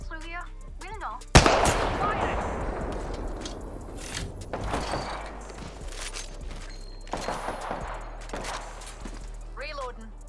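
Video game gunfire erupts in a sharp blast followed by repeated shots and bursts over a noisy battle background, with a voice speaking intermittently.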